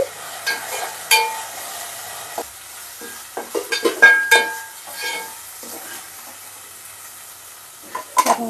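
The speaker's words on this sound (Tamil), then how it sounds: "இப்போ வந்து நல்லா மசாலா வதங்கிடுச்சு" Onion, tomato and masala fry in a pan with a soft background sizzle, broken by scattered clinks and scrapes of a spoon stirring against the metal, close by and without speech.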